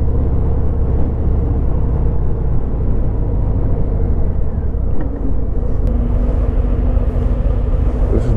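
A 2019 Harley-Davidson FXDR being ridden gives a steady, loud, close engine rumble with a continuous low drone and wind roar for the whole stretch, and no voices over it.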